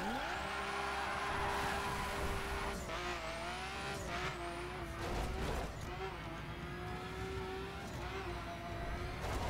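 Nissan Skyline driven in the racing game The Crew, its engine loudly revving with repeated rising and falling pitch sweeps as it shifts, mixed with tire squeal and skidding on a slippery surface, continuous and close throughout.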